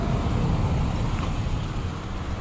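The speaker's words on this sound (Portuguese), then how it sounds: "É as vans que transportam passageiros." Passenger vans and other vehicles pass steadily on a road near the Usina Capricho sugar mill, bound for Maceió, giving a continuous, fairly loud low traffic rumble with no voices.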